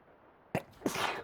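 A person sneezes close by: a sharp intake burst followed quickly by a louder, breathy explosive sneeze in a quiet room.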